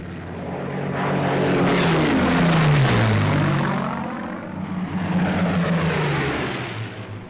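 Engines of WWII fighters and bombers, including P-51 Mustang escorts, drone loudly in flight, a throbbing propeller roar that swells as one aircraft passes with a falling pitch, then stays thick and continuous.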